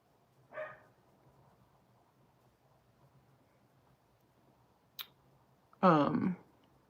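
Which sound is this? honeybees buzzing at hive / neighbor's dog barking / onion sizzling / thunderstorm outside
neighbor's dog barking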